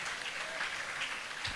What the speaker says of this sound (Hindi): ताली बजाओ अपने स्कूल के लिए